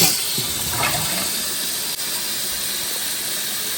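A toilet flushing after sewage digester liquid is poured in: a close, continuous rushing hiss of water draining through the bowl, steady throughout with a faint click partway, and no talking.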